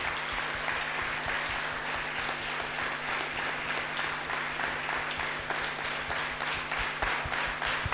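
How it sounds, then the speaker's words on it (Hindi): Audience applause fills a class session, a dense and steady wash of many hands clapping that carries at full level throughout, with no talk over it. "एक बार अपने आप के लिए तालियां।"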